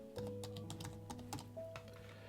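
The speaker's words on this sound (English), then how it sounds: "we're going to type in heading" Quick, close taps on a computer keyboard as a short word is typed, soft clicking keystrokes in a brief burst over a low background hum.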